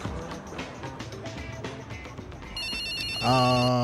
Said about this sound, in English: This man can't even answer his phone.